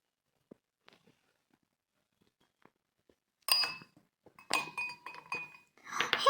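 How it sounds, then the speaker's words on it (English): Ice cubes drop into a glass of water, giving a few bright clinks and rattles after a quiet start, with scattered knocks in between. "So let me have a sip of water. Let me add some ice cubes."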